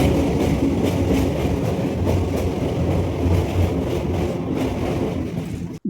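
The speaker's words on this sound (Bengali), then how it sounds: "আমাদের ট্রেন তার নির্ধারিত সময় থেকে প্রায় 10 মিনিট পরে নৈহাটি স্টেশনে এসে পৌঁছেছে" A passenger train rumbles and clatters loudly on its approach into Naihati station, a steady rolling roar of wheels and carriages close by.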